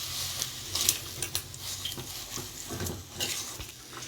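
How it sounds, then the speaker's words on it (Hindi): Boiled potato being mashed and stirred with spices in a pan for an aloo sandwich filling, giving soft scraping and clinking of a utensil against metal with a light sizzle underneath, close and steady, no talk. "सारे मसाले के साथ इसको अच्छे से मैश करना हैगा"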